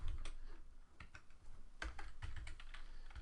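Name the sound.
typing on a computer keyboard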